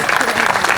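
Loud, dense clapping comes from an audience at a village religious gathering during a Shrimad Bhagwat katha and Vishnu yagya. The applause is continuous and even throughout.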